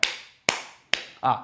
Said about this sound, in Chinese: 很多人拍手就这样去拍